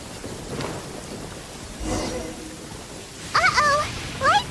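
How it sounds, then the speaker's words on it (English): A thunderstorm with steady rain in the video game Genshin Impact, with a dull thunder rumble in the middle under continuous rainfall. Short bright chirping voice sounds come near the end. "Lightning storm!"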